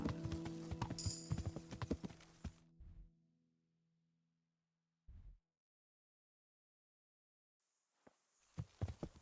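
Horse hooves in the video game Kingdom Come: Deliverance clip-clop in a quick run of steps, then fall silent before a short tap and a final burst of hoofbeats returns.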